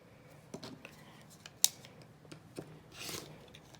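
Scissors snip through a small fabric piece during paper piecing for a quilt block, a few quiet close cuts with a sharp central snip and a soft rasping slide near the end, in a quiet room.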